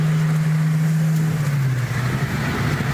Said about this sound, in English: It sounds like it's got exhaust pods. It might have headers.